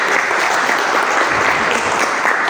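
A crowd applauds at a public outreach session on a draft regional regulation on burial grounds, a dense, steady clapping throughout that sounds close and full.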